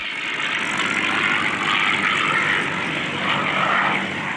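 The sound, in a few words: warbird aircraft doing a slow roll at an air show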